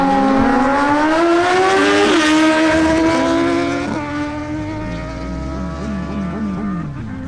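A Suzuki GSX-S750 and a Kawasaki Z900 in a motorcycle drag race roar loudly and close, engine pitch climbing through quick gear shifts before the sound eases off slightly.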